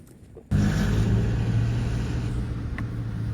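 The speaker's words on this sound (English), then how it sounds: "There's little cars coming through" A small car approaches on a wet farm road during flooding, its engine rumble suddenly rising close and loud, then holding steady as it rolls through and past.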